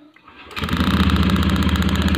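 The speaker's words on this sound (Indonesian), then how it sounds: "Tuh, motornya menyala" A fuel-injected motorcycle engine, checked for ignition coil condition, cranks on the starter and catches after about half a second, then runs at a loud, steady, rapid idle close by.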